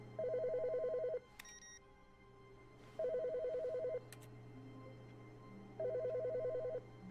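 A telephone rings in The Stanley Parable video game, three bursts of a steady electronic ring separated by pauses, fairly quiet and with no talk over it.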